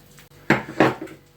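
Two quick clattering knocks as homemade sausage mince is put into a container before refrigerating, close and brief with nothing else around.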